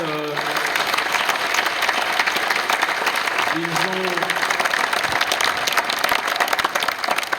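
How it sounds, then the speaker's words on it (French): An audience at a citizens' rally against riots in Maubeuge breaks into loud, sustained applause that runs unbroken throughout, with a voice speaking over the clapping. "vous pouvez les applaudir"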